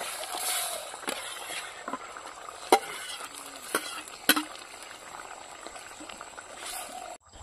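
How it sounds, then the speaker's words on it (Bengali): Curry broth bubbles at a boil in a cooking pot, a soft, faint simmering patter. A few sharp clinks of utensils ring out along the way. "ঝোলটা ফুটে গেছে"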